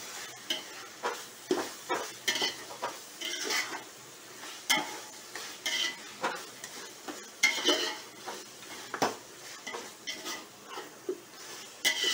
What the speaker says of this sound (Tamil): புதினா ஒரு கை, கொத்தமல்லி தழை ஒரு கை போட்டு நல்லா வதக்கிக்கிட்டு